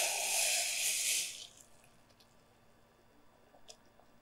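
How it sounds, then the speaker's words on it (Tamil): Boiling water is poured into a cooking pot of sautéed ingredients for spicy corn rice. A bright, splashing gush lasts just over a second, then fades to a quiet kitchen with a faint clink. "நம்ம தண்ணி தூக்கி அதில் ஊற்றிடலாம்."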